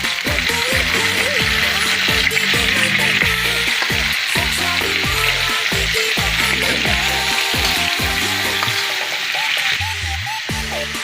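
Chicken feet adobo sizzling loudly and steadily in a pan just after vinegar is poured in, a dense continuous frying hiss with musical tones underneath.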